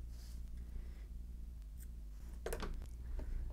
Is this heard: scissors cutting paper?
yes